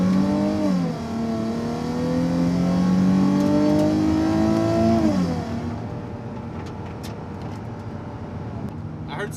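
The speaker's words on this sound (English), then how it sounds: "So right now I'm just taking the 350Z out for a little cruise." A Nissan 350Z fitted with Injen long-tube cold air intakes cruising on a road, its engine droning and rising in pitch through a gear before easing off, loud and close, then settling into a quieter road hum.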